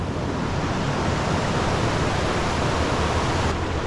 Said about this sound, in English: This is the creek that we were listening to as we were walking along that trail.